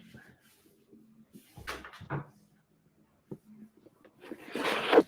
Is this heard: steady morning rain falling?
no